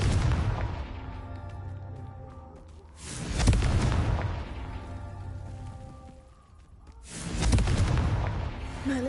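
Confringo blasting-curse explosions from Hogwarts Legacy, two loud booming blasts a few seconds apart, each with a sharp onset and a rumbling tail, over a steady layer of game music and ambience.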